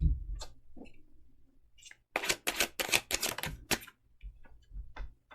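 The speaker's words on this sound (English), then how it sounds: "let me finish shuffling and then I can" Tarot cards are shuffled by hand: a few soft taps, then a loud, rapid riffle of clattering cards in the middle, followed by scattered lighter clicks as the deck settles.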